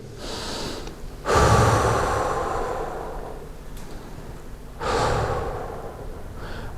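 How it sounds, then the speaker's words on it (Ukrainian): Deep breathing from a group during a guided breathing exercise, with two long, loud breaths a few seconds apart against a soft background hush. "Робимо глибокі, кілька глибоких вдихів."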